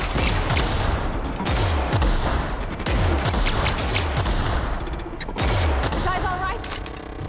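The player's gun fires repeatedly in The Outer Worlds, a loud, rapid volley of shots that comes in clustered bursts with brief pauses, while a voice speaks briefly.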